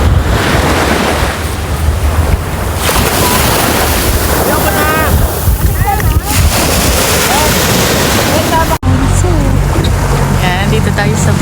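A boat ride on the open sea brings loud, continuous wind buffeting and the wash of waves against the hull, with a motor droning underneath and faint voices briefly audible.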